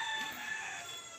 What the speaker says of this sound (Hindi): और ये मेरा 3 बच्चा मुर्गी का।